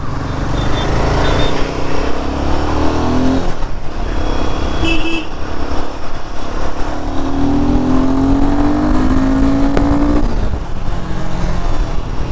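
A Royal Enfield motorcycle revs loudly and accelerates hard, its engine roaring up and down with rising pitch sweeps while the rear wheel skids, close and dominant throughout with no talk.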